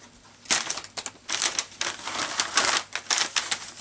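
Gift wrapping paper being ripped open by hand to reveal a lace item inside, heard as a series of close, crisp crinkling tears in uneven bursts with no talking.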